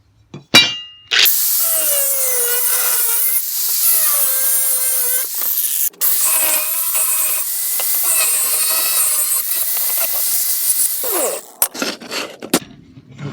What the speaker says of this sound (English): Now I got to cut the angle iron for the vertical part.